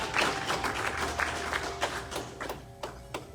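Congregation applauding during a church worship service, a run of soft scattered claps and taps at moderate distance, fairly quiet with no talking over it.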